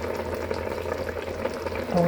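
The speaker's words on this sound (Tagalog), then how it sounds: "fry yung isda po dahil hindi na siya fresh" Fish frying in hot oil for sinigang gives a close, steady sizzle and crackle that continues throughout the short stretch, with no talking.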